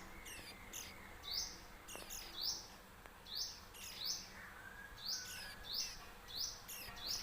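Japanese white-eye chicks in a nest, nearly ready to fledge, give thin high chirps in short repeated bursts about every second, close and fairly soft over a steady hiss of insects.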